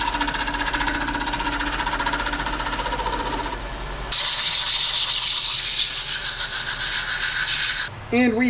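A walnut and pewter bowl spinning on a lathe is sanded toward 320 grit, a steady close whirring rub that runs continuously, drops briefly, then resumes louder and brighter until a short pause near the end.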